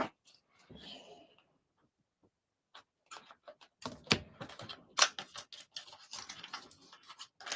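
Foiled washi tape packaging being opened by hand, a quiet run of crinkly plastic rustles and small crackling ticks, close and intermittent with short pauses, no talking.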